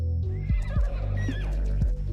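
A horse in the ARK video game gives a loud, close whinny with wavering pitch, mixed with a few soft hoof clops, heard alone.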